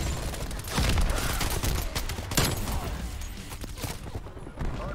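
Rapid automatic gunfire from a gun in Call of Duty Cold War, loud and dense bursts running almost continuously, with sharp shot transients layered over game noise and a voice talking underneath.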